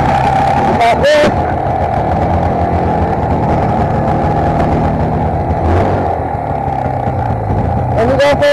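A snowmobile engine, started despite a broken recoil pull cord, runs with a steady, loud droning idle throughout, with brief voices breaking in near the start and end.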